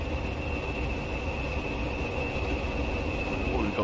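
In Train Simulator Classic, a heavy Class 56 diesel-hauled freight train passes near Doncaster with a continuous, close rumble of wheels and wagons and a thin steady whine over it.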